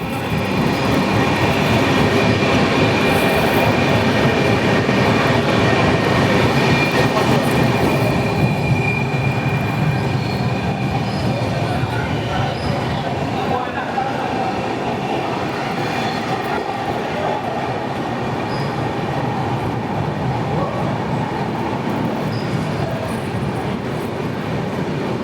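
The Howrah–Mumbai Gitanjali Express passes close by in a loud, continuous roar of rolling wagons and rumbling wheels that carries on throughout with no pause.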